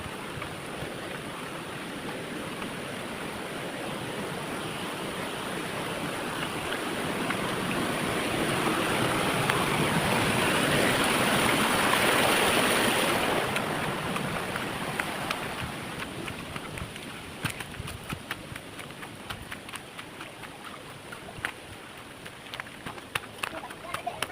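Bambi Falls, a waterfall with a constant non-stop flow, produces a steady broad rushing roar that swells midway, then eases, with scattered clicks and knocks later on.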